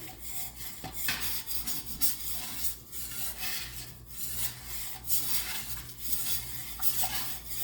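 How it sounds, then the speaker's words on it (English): Shrimp etouffee stirred in a pot: a steady, continuous scraping and rubbing of a spoon against the pot, close and moderately loud, with occasional light clinks and no talking. "You stir it until it gets that beautiful color in it."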